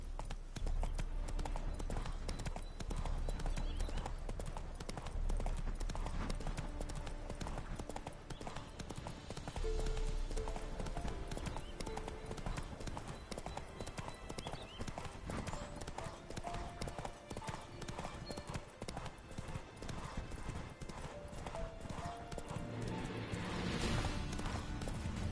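Horse galloping in The Witcher 3, rapid rhythmic hoofbeats running continuously and loud, layered with game music and ambience.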